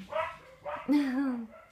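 Playing dogs chasing one another let out a string of close barks followed by a drawn-out whining yelp, lively and fairly loud, in a short burst.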